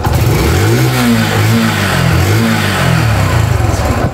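A Yamaha YBR 125 motorcycle engine is revved up and down several times at close range. The revs rise and fall in a loud, continuous buzz.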